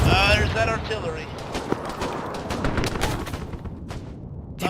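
Friendly rocket fire crackles and bangs in the military shooter Arma 3, a rapid run of sharp reports and blasts with a voice talking at the start amid the chaotic battle noise.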